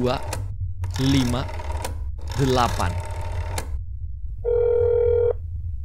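Telephone ringing in the video game That's Not My Neighbor, two long mechanical trilling rings with a pause between, followed by a short steady electronic tone, close and clear.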